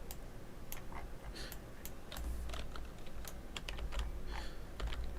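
Brisk typing on a new computer keyboard with macro keys, rapid close-up key clicks in an irregular stream over low room hum, no talking.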